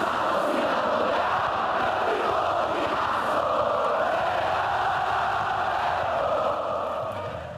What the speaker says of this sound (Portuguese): A torcida do Fortaleza está fazendo uma festa melhor que a outra